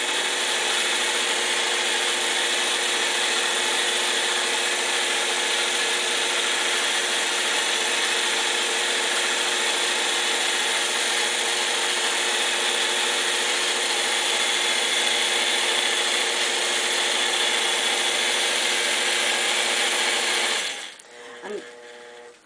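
A quilting machine runs without its stitch regulator while stitching feather designs, producing a steady, dense mechanical whir and rapid needle rattle that continues unbroken for about twenty seconds before stopping abruptly.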